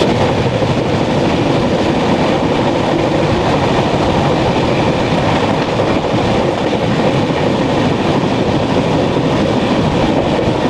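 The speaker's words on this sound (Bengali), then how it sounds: "এখন ট্রেনের স্পিডটা একটু কম থাকবে, কারণ আমরা একটু উপর দিকে উঠছি, মানে পাহাড়ে উঠছি।" A train climbing uphill on a hill railway rumbles steadily and loudly throughout, with continuous wheel and carriage noise and a faint clickety-clack rhythm.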